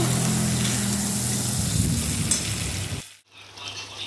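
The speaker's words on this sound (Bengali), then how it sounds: "মাংসে জল দিয়ে দিয়েছি, মানে কষিয়ে, তারপরে মাংসটা ফুটছে এখন।" Meat simmering in water in a pot for khichuri, with a dense close bubbling hiss that continues steadily, then drops off sharply and returns more faintly near the end.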